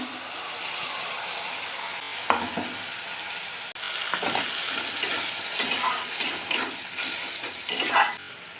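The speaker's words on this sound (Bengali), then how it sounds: "এবার দিয়ে দেবো আদা রসুন বাটা।" Ginger-garlic paste added to softened tomato in a hot pan, frying with a steady sizzle and repeated scraping stirs of a spatula, close and clear.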